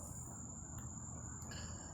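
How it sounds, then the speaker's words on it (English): Crickets chirp in a steady, continuous high trill at night, moderately close under a broad background hum, with no talking. "right now, if you listen, we just hear the crickets, right?"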